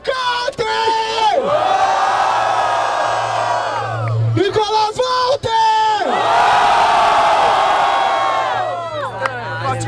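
A large crowd at a Brazilian rap battle semifinal cheers, whoops and shouts loudly in two big surging waves, with an announcer's voice calling out between them in Portuguese.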